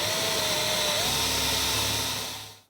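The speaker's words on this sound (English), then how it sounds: "we're going to put a 1/4 inch drill bit in. We're going to drill these out" A steady, high-pitched motorized whine of a power drill with a 1/4 inch bit boring holes in a pedalboard case, running continuously, then winding down and stopping near the end.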